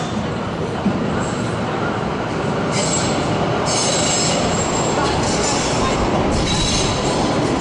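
An Essen tram on the U11 Stadtbahn line runs past with steady loud rumble, its wheels squealing in high bursts through the second half.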